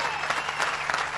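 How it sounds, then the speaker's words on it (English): Brief burst of crowd applause at the Buffalo Bills home opener, greeting Russ Brandon; a steady wash of clapping, moderately distant and loud, lasting about a second. "Let's hear a big round of applause for Russ Brandon."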